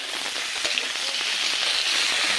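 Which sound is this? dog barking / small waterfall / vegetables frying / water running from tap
vegetables frying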